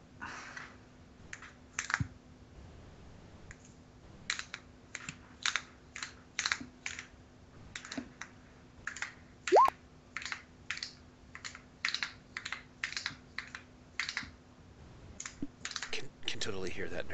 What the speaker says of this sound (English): Can totally hear that nervous clicking.